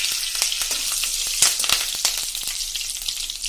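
Curry leaves and fennel seeds frying in hot oil for potato poha, a steady bright sizzle with sharp crackles and pops, close and fairly loud, no talking.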